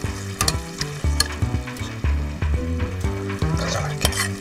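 Beef and eggplant being stir-fried in a studio kitchen: steady sizzling with repeated clanks of a utensil against the pan in a loose rhythm, close and moderately loud, without talk.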